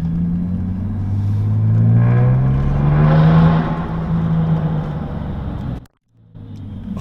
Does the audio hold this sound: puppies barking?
no